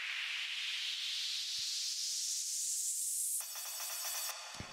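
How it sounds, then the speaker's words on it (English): White noise sweep from an Operator synth in a tech house track, a rising hiss that climbs steadily for about three seconds before breaking into a textured, stuttering tail with a low thump near the end. "we have this operator doing, like, a white noise sweep."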